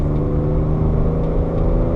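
A 1987 BMW 325is E30 straight-six pulls under full throttle from inside the car, a steady loud engine drone with a smooth rising tone and no break.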